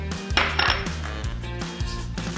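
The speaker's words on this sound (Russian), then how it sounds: "муку и буду ее сначала перемешивать ложкой и лопаточкой" Spoon and spatula clinking and scraping against a bowl while stirring flour with baking powder, a few close, bright metallic knocks and rattles with no talking.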